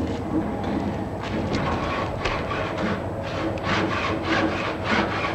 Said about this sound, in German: Die Spannsäge, die mit quergestelltem Sägeblatt senkrecht vor dem Körper auf und ab bewegt wird